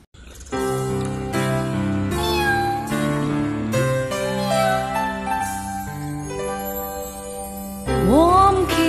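A cat meowing close and loud in a string of drawn-out, varied mews that rise and fall, one after another with brief gaps, then a higher, louder cry at the end.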